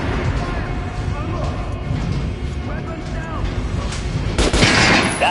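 Gunfire aimed at a training dummy in Metro Last Light, a steady stream of shots under constant game noise, with a louder, brighter burst near the end.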